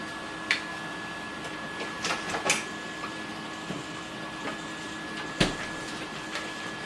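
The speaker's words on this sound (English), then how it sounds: "you can probably hear my printer running now" A printer hums steadily with a constant whine, broken by scattered clicks and clunks of its mechanism at irregular intervals.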